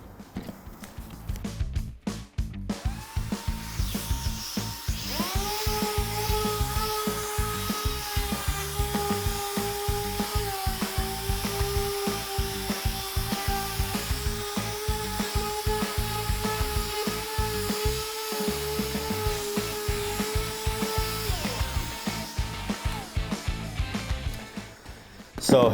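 A wood bar top coated with concrete being sanded, a steady loud power-sander whine with a rough gritty hiss running continuously and close.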